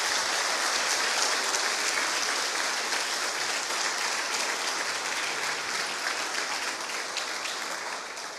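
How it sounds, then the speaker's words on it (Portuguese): Church congregation at a celebration service applauds loudly and continuously for over eight seconds, a dense wash of clapping that eases slightly toward the end. "Aplauda Jesus bem forte."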